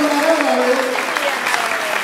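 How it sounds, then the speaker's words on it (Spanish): An audience claps steadily at a cultural event in a hall, warm continuous applause from start to finish with a faint voice or tone lingering underneath. "Yo creo que merece un aplauso."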